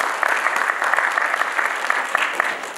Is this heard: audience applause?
yes